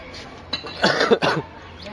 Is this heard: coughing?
yes